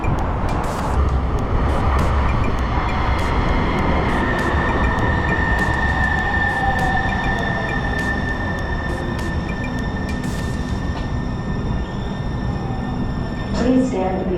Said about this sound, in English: Please stand behind the yellow line until the train stops.